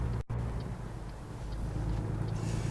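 A heavy truck engine in American Truck Simulator drones with a steady low rumble that builds slightly as it accelerates, continuous and fairly close, with no talk over it.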